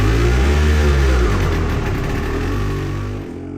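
A repaired Yamaha motorcycle engine runs loud and close, revving steadily with a throaty mid-range drone before easing off and dropping away near the end.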